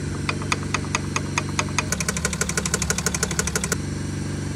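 A BMW 530d N57 diesel engine idling with a steady rhythmic knocking that speeds up into a denser clatter midway, then settles back; close and fairly loud, no talking.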